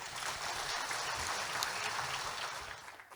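Audience applause welcoming a guest speaker at a Tamil gathering: a dense, steady patter of many hands clapping at once, holding level throughout and easing slightly at the very end.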